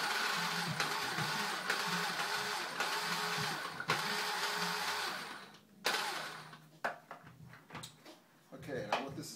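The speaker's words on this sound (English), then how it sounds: "I'm going to process it. I'm just going to put it on pulse." A kitchen food processor runs in repeated short pulses, a steady whirring motor stopping and restarting in a regular rhythm for several seconds, followed by quieter clatter and handling sounds near the end.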